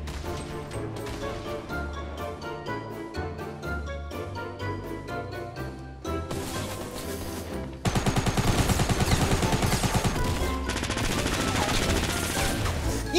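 SMG gunfire in the video game Fortnite, rapid repeated bursts of shots in quick rhythm, growing into a denser, louder continuous stream of fire in the second half.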